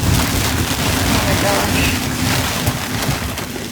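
A strong gust of wind roars across the microphone with heavy rain aboard a boat, loud and continuous, while someone briefly exclaims underneath.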